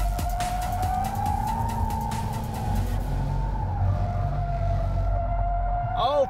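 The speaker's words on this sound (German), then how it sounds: "Driftmeister Menzel gibt sein Bestes mit absichtlich falscher Lenkradhaltung" A Jaguar F-Type sports car drifts with stability control off, its engine droning steadily while tyres squeal in a long, wavering howl, recorded close and loud.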